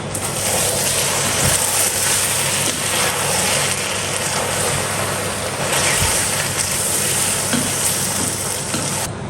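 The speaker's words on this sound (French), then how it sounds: "Après, je mélange" Couscous ingredients stirred in a hot pot, a loud continuous sizzling hiss with steady scraping movement throughout, no talking.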